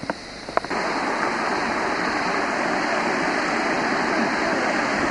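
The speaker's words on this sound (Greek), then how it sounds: "λένε κάτι νεράκια εδώ τρέχουν. Σαν ένα ήσυχο ήσυχο ποταμάκι." Constant rushing of a small stream of running water on Samos island, close and fairly loud, steady throughout after a couple of faint knocks at the start.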